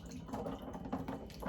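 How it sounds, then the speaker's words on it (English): Tap water runs through a kitchen strainer as beans are rinsed, giving a short, quiet, close splashing and trickling sound. "I like to rinse out my beans"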